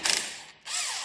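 A ratchet wrench backs off 17mm steering arm bolts on a Toyota steering knuckle, giving two short bursts of close, bright clicking separated by a brief pause.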